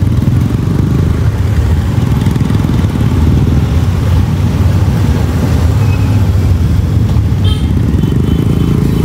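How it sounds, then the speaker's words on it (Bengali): A large group of motorcycles riding together on a trip to Sajek Valley, a dense continuous engine roar close by with faint clatter and a short horn toot near the end. "হাজার হাজার ঝাঁকে ঝাঁকে বাইকের সমাহার"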